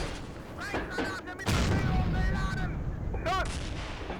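A StuG III assault gun in the Steel Fury combat game fires a high explosive shell, giving a heavy booming blast that rolls on with rumbling battle noise, while someone speaks over it.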